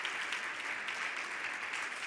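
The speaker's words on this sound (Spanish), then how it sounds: "un fuerte aplauso para Diana" Audience applause for a speaker at a talk on emotions, a steady wash of many clapping hands held at an even, moderate level throughout, with no voices over it.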